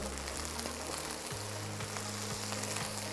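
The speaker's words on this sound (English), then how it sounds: "The idea is right now is to let it start frying as well." Onions sizzle steadily in a hot pan, a dense crackling hiss with faint periodic clicks and a low hum underneath, no voices.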